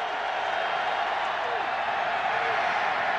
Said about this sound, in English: Crowd doing its job of ratcheting up the crowd noise.